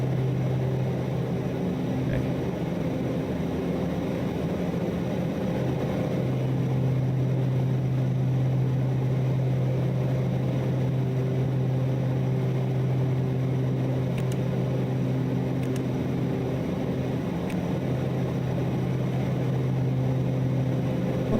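A Starship aircraft's engines hum steadily in cockpit within a flight simulator game, a continuous low drone with a tonal whine holding nearly unchanged for over twenty seconds, occasional faint clicks, no talking.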